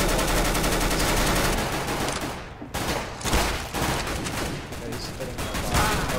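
Dense, sustained gunfire in a competitive CS:GO match, rapid overlapping shots and bursts filling the whole stretch with a brief lull near the middle, loud and close.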